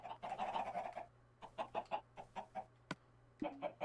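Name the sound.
chickens clucking in a video game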